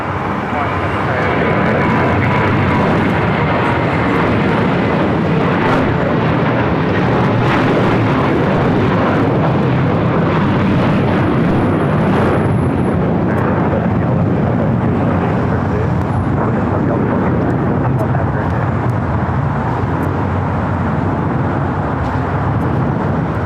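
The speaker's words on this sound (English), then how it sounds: "This is KLM 602 taking off to Amsterdam on a 787-10 Dreamliner." A KLM Boeing 787-10 Dreamliner on its takeoff roll at LAX, bound for Amsterdam, gives a sustained, broad engine roar that stays loud and steady throughout, with voices talking over it.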